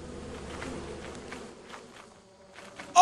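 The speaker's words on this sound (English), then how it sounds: "Those bees are gonna fucking get on the ship" Insect buzzing from a swarm of bees in a video game, a soft steady hum with faint footstep-like taps, ending in a sudden loud burst.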